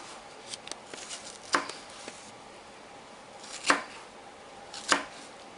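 A knife dicing onion on a cutting board for guacamole, sparse crisp chopping taps with a few louder strikes spaced apart, fairly close and quiet.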